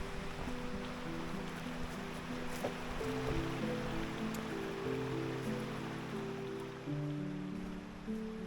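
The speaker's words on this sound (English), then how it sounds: "Looks like we got a creek crossing." A creek flows steadily at a trail crossing in Red River Gorge, Kentucky, giving a continuous broadband rush of water with no voices.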